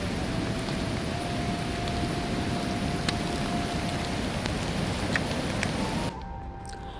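Heavy monsoon rain on the Malakkappara–Valparai road during a rainy ride, a dense, even roar that stays loud for about six seconds, then drops to a softer hiss.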